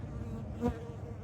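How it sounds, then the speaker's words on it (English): A bee buzzes briefly past outdoors among rock formations in the Kingman, Arizona desert, a soft, short drone that rises and fades in about a second over quiet background. "I'm being attacked by a bee. Hey bee, get away from me."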